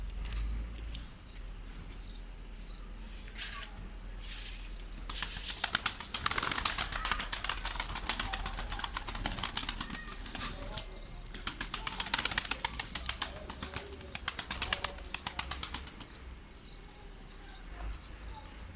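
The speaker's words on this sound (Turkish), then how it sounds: "Büyük heybetli bir güvercinimiz." Bursts of rapid pigeon wing flapping come and go over several seconds, close by, with a steady low hum underneath and no talking.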